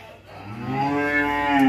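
One loud, close cow on a Vietnamese cattle farm lets out a long, drawn-out moo that rises and swells in volume. The farm raises Belgian Blue and French beef breeds. No other sounds intrude.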